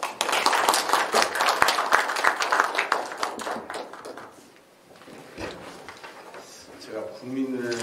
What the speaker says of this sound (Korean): 모두 한 박수로 환영해 주시기 바랍니다.